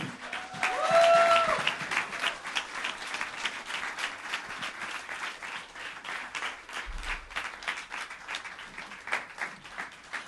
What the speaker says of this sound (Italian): Di nuovo un applauso per queste fantastiche musiciste.